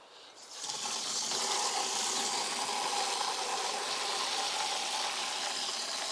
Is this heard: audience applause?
no